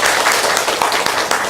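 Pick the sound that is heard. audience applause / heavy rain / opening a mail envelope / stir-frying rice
audience applause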